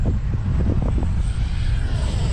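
X-Fly TA-7 RC airplane in flight on a windy day, a steady low propeller and motor drone with wind buffeting, fairly close and continuous without voices.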